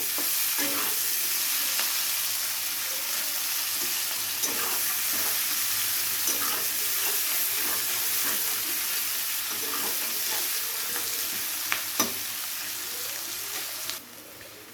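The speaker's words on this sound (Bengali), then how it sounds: "পেঁয়াজটাকে একটু লাল লাল করে ভেজে নিতে হবে।" Chopped onions fry in a pan until reddish for rui posto, a steady close sizzle with occasional stirring clicks and scrapes, continuous and unbroken with no speech.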